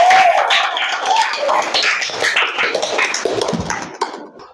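Classroom audience applauding together, a dense burst of clapping that starts loud and gradually thins out and fades over several seconds.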